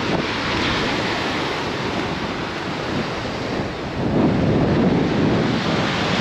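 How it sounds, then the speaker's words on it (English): Atlantic Ocean surf ahead of a hurricane on the Outer Banks, a loud, continuous roar of breaking waves mixed with strong wind buffeting the microphone, swelling a bit toward the end, with no voices. "Here we go, guys, Atlantic Ocean before a hurricane."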